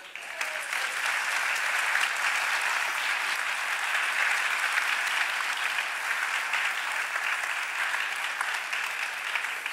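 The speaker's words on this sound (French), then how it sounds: "On peut les applaudir" Loud, dense audience applause fills a theatre for nearly ten seconds at a steady level, a crowd clapping together with no speech on top.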